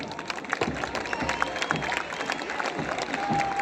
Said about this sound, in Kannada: ಚಪ್ಪಾಳೆಯ ಸದ್ದು